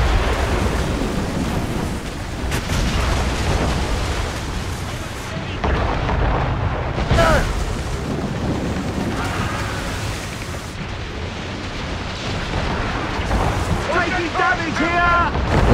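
Naval battle in Assassin's Creed Rogue, ship cannons booming in heavy rumbling volleys over constant sea and wind noise, with voices shouting and talking throughout.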